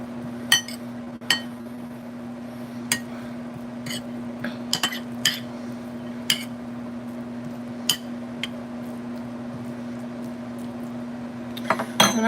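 Butter is stirred into cooked noodles in a kitchen, with scattered sharp clinks of cutlery against a pot over a steady low hum, no talking.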